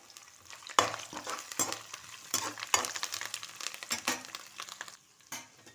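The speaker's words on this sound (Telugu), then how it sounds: "అన్నింటినీ వేసి బాగా కలుపుకోవాలి" Spices and dried chillies sizzle and crackle in hot oil while a utensil scrapes and stirs the pan in uneven strokes, close and without talk.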